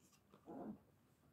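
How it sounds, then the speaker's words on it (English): A dog makes a short, muffled vocal sound at moderate distance, a single brief bark or growl-like noise in an otherwise quiet room. "Sorry about the dog."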